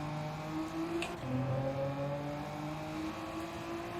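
Engine of a 2002 Honda NSX Type R in Gran Turismo, a steady high-revving whine that shifts pitch after a gear change, continuous and moderately loud.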